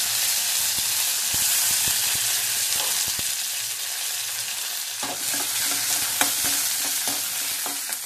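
Dried red chilies, green chilies and curry leaves hit hot oil, setting off a steady loud sizzle with crackles and stirring scrapes close by, and no talking.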